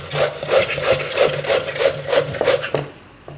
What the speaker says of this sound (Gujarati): તો કેરી આપણે છીણી લીધી સારી રીતે